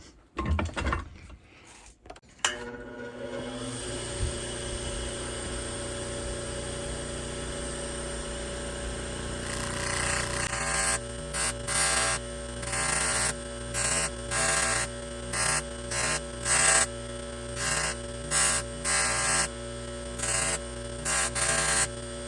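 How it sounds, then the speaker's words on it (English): A 120 grit polishing wheel works file marks out of a gun part during a screw hole repair: a steady motor hum, then a run of rhythmic, repeated bursts of abrasive contact as the part is pressed against the wheel. "Now we're going to go over to the 120 grit wheel and polish those file marks out."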